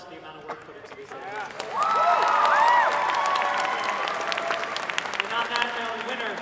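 An audience at the Anime Boston 2018 Death Match convention event bursts into loud, sustained applause and cheering about two seconds in, with excited voices and shouts mixed through the clapping.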